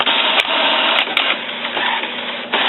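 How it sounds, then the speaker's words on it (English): An HP Envy inkjet printer runs its print head alignment, giving a loud steady mechanical whir with a few sharp clicks of the carriage, close up and alone. "It's going to do its alignment."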